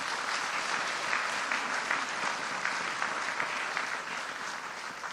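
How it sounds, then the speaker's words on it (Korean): A church audience breaks into sustained, steady applause during a pastor's lecture, a dense wash of clapping at even loudness throughout, with no talking over it. "박수 박수."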